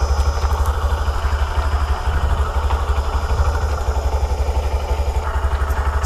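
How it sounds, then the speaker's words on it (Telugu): A Honda SP 125 motorcycle engine idles with a steady, rapid low thumping pulse, loud and close-up throughout, with no speech over it. "స్టార్ట్ చేసి అయితే చూపిస్తాను ఇంజిన్ సౌండ్ ఎలా ఉందో చూడండి."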